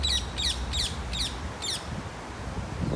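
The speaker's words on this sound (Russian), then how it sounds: "Вот наши местные попугаи." Five loud, harsh squawks from local parrots in a subtropical autumn setting ring out in quick succession over the first two seconds, then fall away to outdoor background noise.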